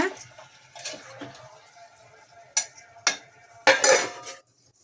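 A spoon stirs tomato thokku cooking in oil in a pan, with sparse metallic clinks and scrapes, a few louder knocks against the pan, and quiet gaps in between.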